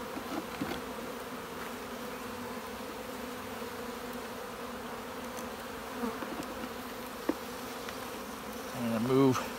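Honey bees buzz steadily around an open hive in a bee yard, a soft continuous hum with a few louder passes near the end.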